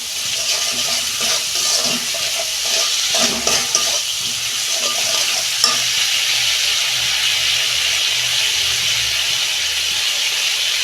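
Spice paste with salt sizzles and is stirred in a hot pan, a loud, steady frying hiss with scraping stir strokes in the first few seconds and no talking.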